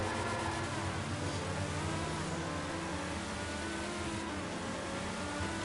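A supercar in a heist video game races along at speed, its engine note steady and loud throughout with no talking over it.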